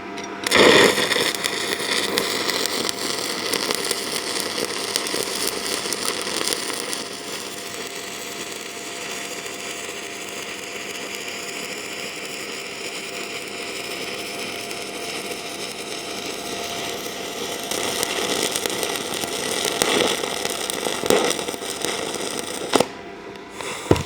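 Stick welding with a 1/8 inch 7018 rod on an Arccaptain TIG 205 Pro set to 120 amps: a steady, close crackling and sizzling arc runs almost the full length, then cuts off abruptly near the end.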